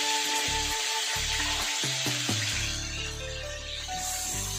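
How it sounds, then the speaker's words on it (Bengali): Paneer pieces sizzle and spatter in hot oil for chili paneer, a loud steady crackling hiss that swells as the pieces drop in, with clattering utensil knocks partway through. "তো তেল গরম হয়ে আসার পর আমরা এখানে পনিরগুলো দিয়ে দিচ্ছি।"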